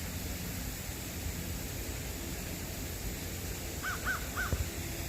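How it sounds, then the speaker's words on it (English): Three quick crow caws sound in a row, distant and faint, over a steady wash of outdoor background noise on a morning nature walk. "Some crows flying up there."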